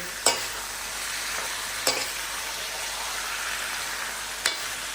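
Chicken fries for a Punjabi desi-style curry, a steady soft sizzle broken by three sharp scrapes of a spoon stirring the pan, with no talk.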